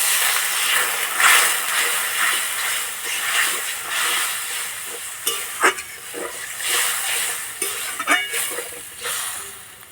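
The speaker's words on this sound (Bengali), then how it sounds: "এবার জল দিয়ে দেবো।" Water poured into hot fried spices for a bata fish curry, raising a loud sizzling hiss with stirring clatters and scrapes close by, swelling and easing over several seconds.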